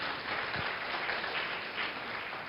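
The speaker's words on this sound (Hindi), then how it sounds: "जोरदार तालियों के साथ स्वागत कीजिए।" Audience applause welcoming guests to a televised panel discussion on astrology, a steady, even wash of clapping held at moderate level for the whole stretch, with no voices over it.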